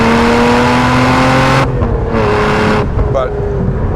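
A supercharged V6 Lotus Emira with a manual gearbox is driven through corners on damp roads, its engine droning loudly from inside the cabin, then briefly easing off and pulling again as gears change.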